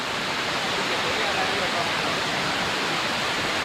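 Erawan Waterfall in Thailand pours in a dense, unbroken roar of rushing water, loud and close, steady for the whole stretch with no talk.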